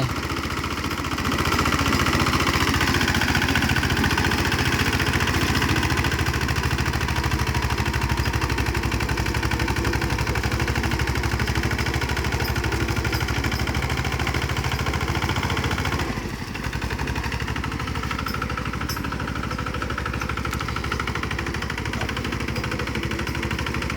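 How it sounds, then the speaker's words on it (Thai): A Kubota 14 hp walking tractor engine chugs steadily while plowing a muddy rice field, a loud continuous mechanical drone heard up close with no pauses. "มาดูรถไถคูบต้า"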